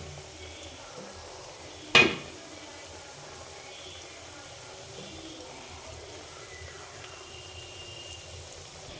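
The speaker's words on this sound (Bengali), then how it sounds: "হালকা আঁচে ভাজতে হবে আস্তে আস্তে হালকা আঁচে ভাজতে হবে" Mung dal pitha frying gently in oil over low heat, a faint continuous sizzle with one sharp clatter of a utensil near the start, otherwise quiet and steady.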